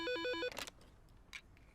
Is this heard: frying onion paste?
no